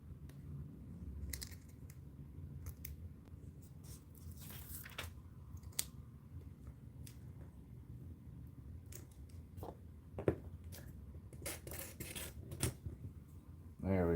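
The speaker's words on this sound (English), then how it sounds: "Use our little mini scissors." Small mini scissors snip through a cracked ice trading card in a quiet room, giving scattered short clicks and crisp cuts at close range with light handling noise and no talk.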